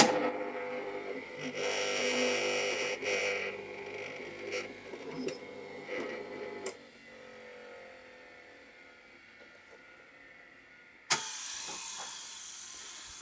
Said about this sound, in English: take it to my hole punch tool